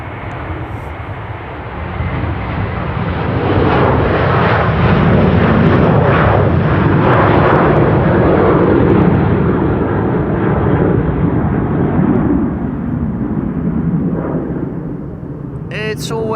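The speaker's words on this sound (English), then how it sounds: "Delta Airlines Flight 75 to Atlanta, Georgia, A330-300." A Delta Airlines Airbus A330-300 airliner at Amsterdam Schiphol Airport roars past in a long, loud, steady jet engine rumble that swells, holds and slowly eases, with no talking over it.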